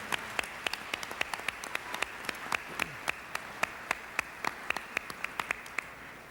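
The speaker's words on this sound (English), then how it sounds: "Please give them all a round of applause." At an awards gala, sparse applause comes through as a handful of distinct, sharp hand claps spread unevenly over a quiet room, like a few people clapping rather than a full crowd.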